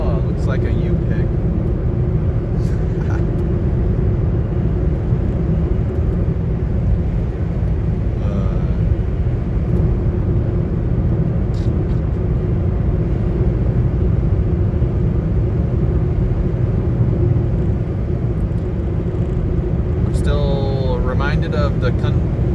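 A yellowish-orange bus rolling along, its steady low engine and road rumble filling the cabin from start to finish, with faint rattles and a brief voice-like sound near the end.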